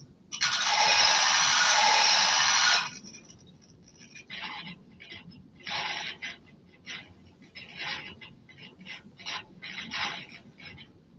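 Generative electronic music made of resonant bandpass-filtered noise: a loud hissing wash for about two seconds, then irregular pulsing bursts of filtered noise with a faint tonal resonance, and no talking.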